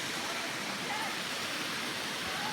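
Steady broadband rush of falling water at a waterfall on a camping trip, a constant close hiss that holds evenly through the whole stretch with no talk over it.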